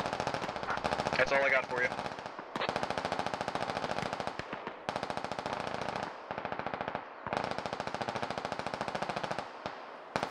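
Sustained machine-gun bursts from the military shooter game Squad rattle in long rapid strings, broken by short pauses, loud and close, while a voice talks over part of the firing.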